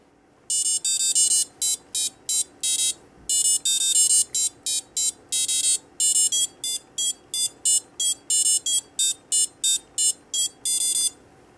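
A small electronic buzzer on a SquareWear 2.0 board plays a melody as a quick run of sharp, bright staccato beeps in a steady bouncing rhythm, loud and close with no voices.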